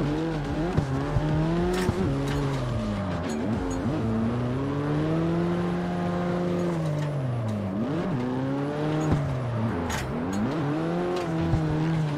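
A Nissan 240SX racing car engine in the video game CarX Street revs and shifts pitch continuously while tires squeal and screech in long sliding bursts, loud and close throughout.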